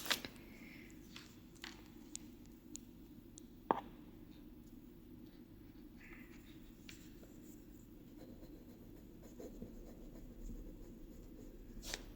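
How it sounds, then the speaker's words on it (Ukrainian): A pen scratches across paper while knitting gauge measurements are noted down, making faint, intermittent strokes with a few soft clicks in a quiet room. "Записуємо."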